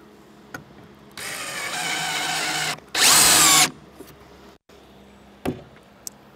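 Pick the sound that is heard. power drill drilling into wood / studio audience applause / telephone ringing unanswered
power drill drilling into wood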